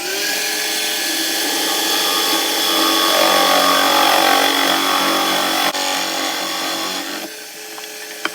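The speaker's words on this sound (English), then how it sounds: "It's not a Forstner bit I'm using, it's a spade bit. A 25mm one" A 25mm spade bit in a power drill bores into wood for a wheelbarrow planter, a loud, steady high whine that holds for several seconds before the motor winds down and stops.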